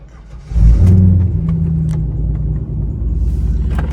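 A C5 Corvette engine cranks and catches with a sudden deep roar, then settles into a loud, steady rumbling idle close by with no talking.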